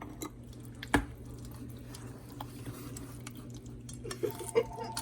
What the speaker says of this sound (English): And we're going to mix again.